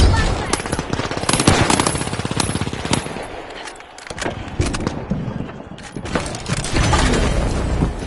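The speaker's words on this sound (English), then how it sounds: "Using a flashbang!" A flashbang grenade goes off amid a chaotic firefight in the video game The Finals, with dense bursts of gunfire, blasts and clatter running loud and continuous throughout, easing briefly before the din resumes.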